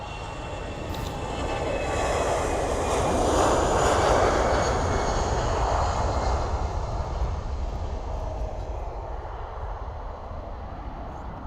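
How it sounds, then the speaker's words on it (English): A Brussels Airlines airliner roars down the runway on takeoff and rotates into a steep climb, its broad jet engine rumble swelling to a peak and then slowly fading as it pulls away into the distance. "we're actually going to get to see a decent rotating climb there from the Brussels Airlines"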